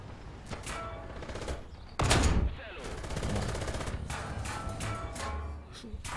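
Bursts of gunfire strike an anti-aircraft vehicle during a War Thunder jungle battle, rapid close automatic fire with a heavier blast in the middle, all under a constant engine and battle rumble.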